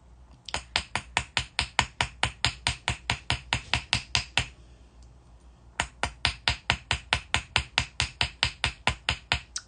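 A hammer strikes 18 gauge wire laid on a block, working it hard with two runs of quick, even, sharp taps, about twenty blows each, separated by a short pause; the close metallic knocks ring out with no voices.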